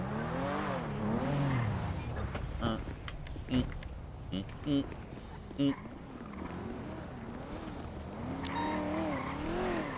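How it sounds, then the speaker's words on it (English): A car is driven and parked in a video game, its engine droning and rising and falling in pitch, with a few sharp clunks partway through, under nearly constant talking. "I gotta park my car"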